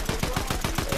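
Rapid automatic gunfire from a Fortnite match, a steady rhythm of repeated shots at roughly ten per second, loud and continuous through the whole moment with no voices over it.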